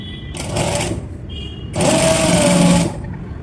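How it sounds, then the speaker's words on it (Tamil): A sewing machine stitches tucks into fabric from the wrong side in two close, loud, buzzing runs: a short burst, a brief pause, then a longer steady run. "ஸோ ராங் சைடில் இப்போ நான் தைச்சிட்ருக்கேன்."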